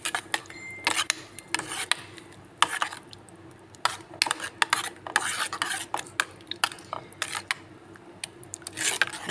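Yeast being stirred into donut dough mixture in a bowl, a steady run of close scraping and clinking strokes against the bowl with irregular rhythm, no speech.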